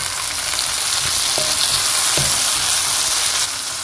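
Onion and chopped tomatoes frying in a pan for a quick egg sauce, a loud steady close sizzle with a couple of soft stirring knocks and no talking.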